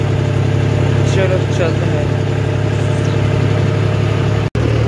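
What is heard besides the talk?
Mahindra tractor engine idling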